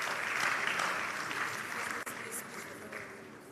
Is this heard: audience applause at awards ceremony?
yes